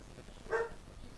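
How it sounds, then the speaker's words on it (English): A single short dog bark rises from downstairs inside a home, moderately loud but muffled by distance over a faint room hum. "He barks at everything and then barks at nothing."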